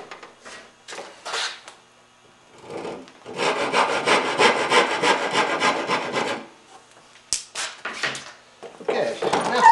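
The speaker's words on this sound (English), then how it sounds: "make sure you are aware of that as you're sawing" A hand saw cuts through curly maple in rasping strokes, first a few short bursts, then a long run of rapid back-and-forth strokes, then more short passes, close and loud.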